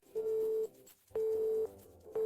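A telephone busy tone sounds after a call is hung up, steady beeps about half a second long repeating at regular intervals, clear and alone.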